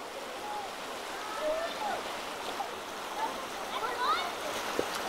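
Rapids on the Rogue River rush and splash steadily, with kids swimming in the water, faint cries rising over the flow.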